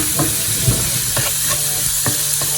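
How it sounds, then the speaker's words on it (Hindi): Flour (maida) roasting in two spoons of melted butter in a pan for a white sauce, with soft, steady sizzling and a few scraping stirs, close by and without talk. "2 चम्मच बटर का डाल दिया। अब इसको थोड़ा सा फ्राई करेंगे, हल्का सा सौते करेंगे। मैदा डाल देंगे और उसको भूनेंगे।"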